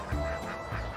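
A duck quacking on a farm: two short, nasal quacks close by in about a second, fairly loud over a low background murmur, without talking.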